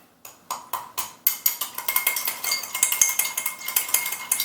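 A bar spoon muddles sugar and bitters in an old fashioned glass, making a steady run of sharp, bright glassy taps and clinks, close up and fairly loud, quickening into a dense rhythmic clatter.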